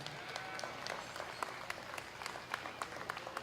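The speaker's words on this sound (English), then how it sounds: "Let's give these exhibitors a big round of applause." Crowd at a county fair 4-H/FFA beef and dairy cattle showmanship event applauds the exhibitors, a steady spread of clapping with sharp individual claps, moderately distant and soft.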